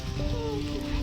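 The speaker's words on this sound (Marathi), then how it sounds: "पाऊस आता थोडा बारीक आला" Steady soft patter of light rain, a continuous hiss with faint droplet texture and a low background hum throughout.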